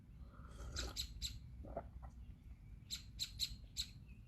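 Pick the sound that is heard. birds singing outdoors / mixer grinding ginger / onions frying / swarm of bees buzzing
birds singing outdoors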